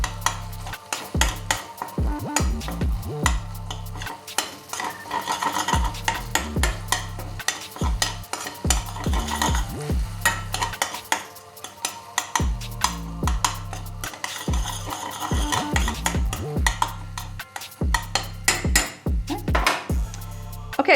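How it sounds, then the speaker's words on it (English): Tomatoes for palak paneer cook soft in a pan, a steady sizzle under repeated scraping and knocking of a spoon stirring against the pan, fairly loud and close throughout. "let's turn our attention to the tomatoes cooking over here"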